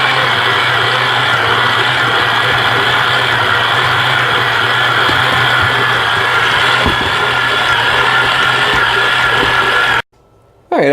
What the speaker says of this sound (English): Now we're going to hook this up to the mixer, and we're going to knead it together for about a minute